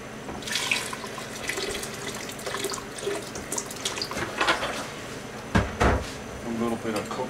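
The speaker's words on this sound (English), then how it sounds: "Gonna go ahead and get some water down in there." A kitchen tap runs water into a bowl with a continuous splashing hiss, close by, punctuated by a couple of clinks from dishes or utensils.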